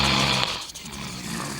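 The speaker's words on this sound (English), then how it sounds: "Who's that snoring?" Someone snores in a loud, rough, rasping drone that dips briefly for a breath partway through, heard alone without speech.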